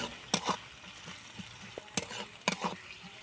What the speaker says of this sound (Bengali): পেঁয়াজটা একটু ভাজা ভাজা মতো হতে হবে, হালকা হালকা করে ভেজে নেব